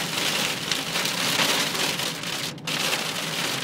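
Hailstones pelt down hard during a storm on the Naples ring road, a dense, steady hiss of impacts close around, continuous with one brief dip, no talk.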